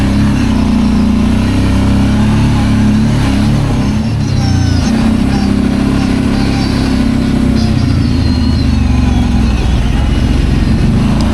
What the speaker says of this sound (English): I like the rumble of this V-twin 750 engine. That's got a nice roar to it.